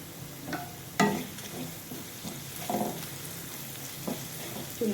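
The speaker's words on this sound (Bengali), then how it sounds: "একটু নেড়ে চেড়ে" Potatoes and bitter gourd with turmeric, cumin and coriander powder fry in a pan, a soft steady sizzle broken by several distinct scraping stirs from a spatula, with no voices.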